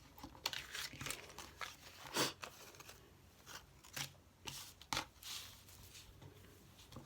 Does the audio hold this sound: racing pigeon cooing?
no